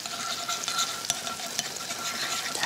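Butter and cooking oil heating in a pan to sauté vegetables for a hamburg steak side, giving a steady bright sizzle with a few small pops and clicks and no voices.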